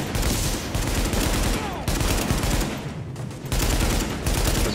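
Rapid bursts of gunfire from the video game Tom Clancy's The Division, dense volleys and automatic fire in several loud clusters with brief gaps between, close and harsh, filling the whole stretch.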